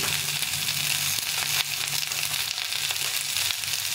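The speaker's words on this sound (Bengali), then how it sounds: "আর হলুদ গুঁড়ো দিয়ে এটাকে ভালো করে ভেজে নেব" Cauliflower stems with salt frying in a pan, a steady bright close sizzle with a few soft crackles and stirring knocks, continuous throughout with no talk.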